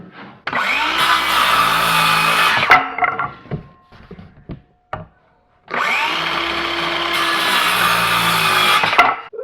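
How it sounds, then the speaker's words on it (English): A power drill drives screws into wooden shelf boards in two long whirring runs, separated by a pause filled with faint clicks and handling knocks, loud and close. "then we'll start screwing everything down"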